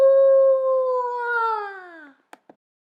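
A single long, loud howl with a steady tone drifts slightly lower and fades over about two seconds, followed by two brief faint clicks in otherwise clean silence.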